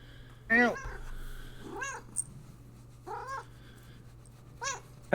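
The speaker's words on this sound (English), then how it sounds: "Very noisy cat." Close, loud cat meows come in four or five separate bursts spread across the moment, with short quiet gaps and a low hum underneath.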